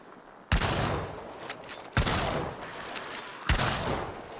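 Three single heavy gunshots in Hunt: Showdown 1896, evenly spaced about one and a half seconds apart, each a loud close crack followed by a long echoing tail.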